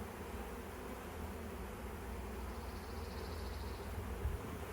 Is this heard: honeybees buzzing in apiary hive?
yes